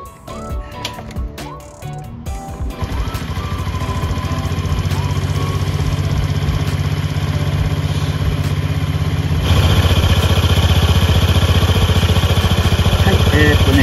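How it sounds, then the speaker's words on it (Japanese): A Honda Crea Scoopy scooter engine starts after some clatter and settles into a steady, loud idle close by, during a coolant change with the radiator cap still open; the idle grows slightly louder toward the end. "このまま一回エンジンかけますね。"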